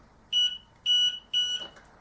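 Three loud, shrill electronic beeps in an even rhythm, each a short pulsing burst, from a nearby Plumb Guard V3 safety device alarm during its self-test.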